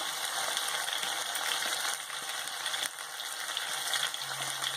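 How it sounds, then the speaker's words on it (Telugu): Paste of mint, coriander and green chilli added to ginger-garlic frying in oil for a spicy green chicken gravy: a steady, loud hiss and sizzle with a brief soft clink. "ఇప్పుడు మనం ముందుగా చేసుకున్న పుదీనా, కొత్తిమీర, గ్రీన్ చిల్లీ పేస్ట్ వేసుకుందాం"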